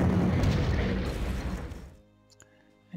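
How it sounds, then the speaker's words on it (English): Artillery hit explosion in Panzer Corps, a single loud deep boom that rumbles and fades over about two seconds, followed by quiet with a faint click. "One more hit with artillery"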